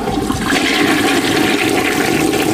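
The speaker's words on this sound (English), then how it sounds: "I'm flushing right now." A toilet flushing with a continuous loud rush of water swirling down the bowl, steady throughout with no voices.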